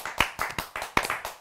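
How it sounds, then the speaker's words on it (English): A small group clapping on a comments-show stage, about seven sharp hand claps spread unevenly over a moment, close and moderately loud with no talk over them. "I'll give a round of applause."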